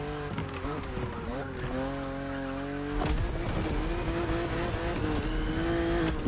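A BMW Z4 E89 drives in The Crew Motorfest, its engine note rising and shifting steadily with brief tire noise, while a voice talks over it throughout.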